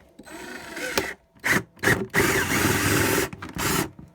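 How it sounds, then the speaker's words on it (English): A power drill whirs in several short bursts, one long run among brief ones, close by and fairly loud, drilling 3/16 inch drainage holes in the bottom of a plastic container. "I'm going to drill some 3/16 inch holes in the bottom for drainage."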